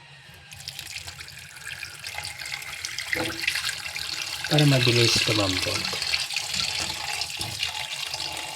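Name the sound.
water from tap filling pressure cooker pot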